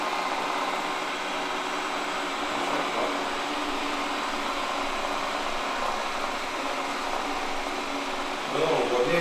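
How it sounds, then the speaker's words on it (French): A floor vacuum cleaner runs continuously with a steady whooshing drone, close and even throughout, pitch shifting slightly near the end, with no voices heard. "niveau du son de l'aspirateur, il est beaucoup moins bruyant que celui qu'on a fait là"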